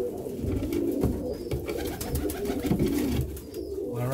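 Young tippler pigeons coo softly and repeatedly, low murmuring calls close by against a steady background hum with no talking.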